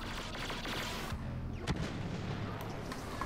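Heavy blaster fire in a Star Wars Battlefront battle rattles on without a break. Sharp shots and booming impacts sit over a constant dense rumble of combat.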